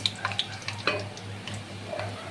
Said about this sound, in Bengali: আর এবার ফোড়ন দিয়ে দেব তেজপাতা, লবঙ্গ, এলাচ আর দারচিনি।